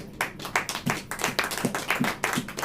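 A church congregation claps together in a steady, even rhythm, a run of sharp hand claps at moderate distance with no talk over them.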